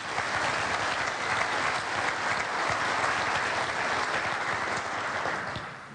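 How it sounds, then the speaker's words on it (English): Audience at a men's conference gives a sustained round of applause, steady dense clapping filling the room for several seconds before easing slightly at the end. "give yourselves a round of applause for saying yes."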